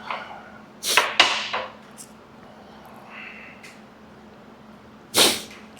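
A person sneezes near the start with sharp, breathy bursts in quick succession, then another abrupt burst follows a few seconds later, close and fairly loud over a quiet room.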